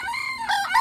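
A fighting rooster crows once close by, a loud, strained call that starts with a thin rising note and breaks into a harsher, wavering cry in its final half.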